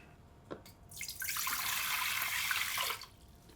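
Water is poured from a vessel into a bowl of pizza dough mix, a bright splashing stream that swells in after a couple of small knocks, runs steadily for about two seconds, then stops.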